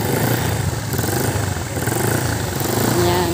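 A custom-built motorcycle engine revs through its muffler close by, giving a continuous rough, throbbing exhaust roar that stays loud for the whole stretch and swells slightly near the end.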